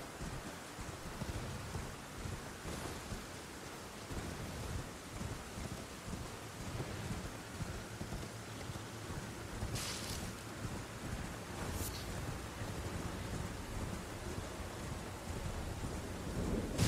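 Thunder and rain in the video game Elden Ring, with steady rain and wind throughout, low rumbling thunder and a couple of sharp cracks.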